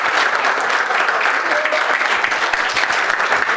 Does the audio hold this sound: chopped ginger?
no